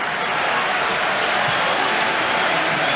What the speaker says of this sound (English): Applauds the Arsenal fans.